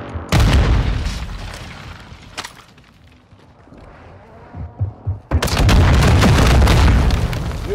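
Grenade launcher blasts in a video game boom loudly in quick succession, then a quieter stretch with scattered pops before another long rumbling explosion.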